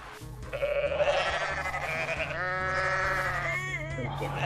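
Bleating from goats and sheep in the Goat Simulator video game, several drawn-out wavering cries in quick succession with game noise and someone talking underneath.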